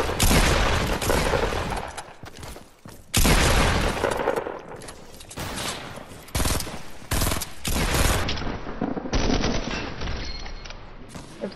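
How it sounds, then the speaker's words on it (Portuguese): Rapid bursts of automatic gunfire from a shooter video game, loud and near, with sustained fusillades broken by brief pauses and several distinct volleys over the span. "Dá tiro no cara, dá tiro no cara, porra"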